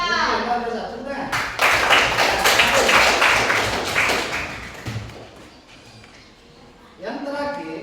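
Classroom students clapping hands together in a burst of rhythmic applause lasting several seconds, then fading, with brief voices at the start and end.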